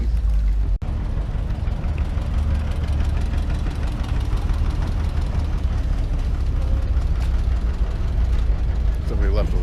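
Old Farmall, McCormick and International tractors idling together at a tractor ride gathering, a steady low rumbling chug with knocking texture throughout, nearby and continuous, with a brief click near the start and faint voices underneath.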